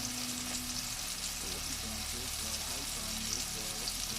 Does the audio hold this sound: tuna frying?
yes